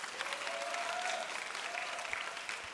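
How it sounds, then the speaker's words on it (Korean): Audience applause fills a church youth-service hall as a guest speaker is called up, a steady wash of clapping lasting a few seconds with faint crowd murmur underneath. "박수 한번 부탁드리겠습니다."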